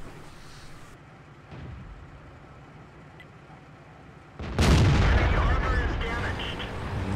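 In World of Tanks, an AMX ELC bis light tank fires its gun at a T-71 on the Serene Coast map. A single loud, booming shot bursts out after several seconds of quiet engine rumble, with a voice talking in the background.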